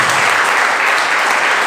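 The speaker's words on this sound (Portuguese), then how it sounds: "Dá uma salva de palmas para Jesus." A church congregation at a worship service claps together in loud, dense, continuous applause that fills the whole moment without a break.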